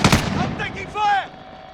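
Video game gunfire crackles in a quick burst of sharp shots, loud and close, followed by electronic pinging effects and a brief bright synthetic tone.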